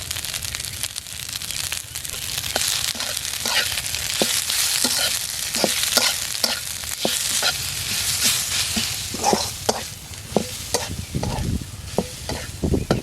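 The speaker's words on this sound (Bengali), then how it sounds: "চুলার আঁচ একেবারে কমিয়ে দিয়ে পেঁয়াজের সাথে পাতাটা ভালো করে ভেজে নিয়েছি" Boiled moringa leaves and onion fry in a pan over a very low flame, a steady soft sizzle broken by repeated sharp scraping and stirring strokes of a spoon against the pan, close and continuous with no talking.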